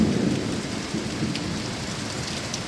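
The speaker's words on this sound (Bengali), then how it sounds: "আকাশের ডাক শুনতে পারবে আপনারা। আর বৃষ্টিও মুষলধারে বৃষ্টিও।" Heavy downpour in Sylhet roars steadily and close, with a low rumble of thunder rolling underneath the dense hiss of rain.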